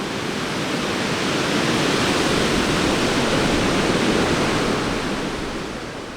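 Large ocean waves break in shallow surf in Baja, Mexico, a loud continuous wash of white-water roar that swells and slowly eases toward the end, with no voices.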